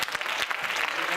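A church congregation at a workers' recognition service applauds, dense clapping heard close and loud, filling the short moment with no one speaking.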